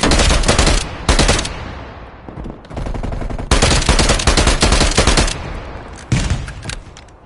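Assault rifles fire in loud, close bursts of rapid automatic gunfire in a Call of Duty: Black Ops Cold War multiplayer match, with several dense volleys separated by brief gaps.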